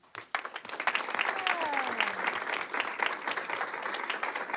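Applause from the audience at a school district board meeting rises sharply after a brief pause and continues as a steady, moderately distant patter of many hands, with a voice murmuring faintly beneath.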